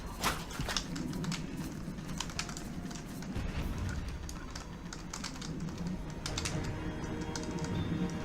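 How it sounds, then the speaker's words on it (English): Computer keyboard keys tapped repeatedly while playing The Witcher: Enhanced Edition, dodge rolling with double taps on the directional keys; a steady run of faint, close clicks over a dull background hum, with no talk. "you double tap the directional keys."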